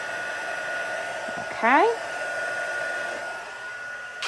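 Heat tool blowing a steady hot-air whoosh over white embossing powder, continuous and close for the whole stretch, with a brief faint tonal chirp partway through.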